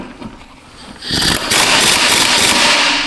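An impact wrench hammers at a seized front brake bolt on a Buick Encore, starting after a short quiet lead-in and then a loud, rapid, continuous rattling burst that runs to the end.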